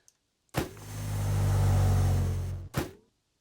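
A steady mechanical whir with a low motor hum, a custom-designed sound of a robot moving forward, swells up for about two seconds, then a short second burst follows after a brief pause.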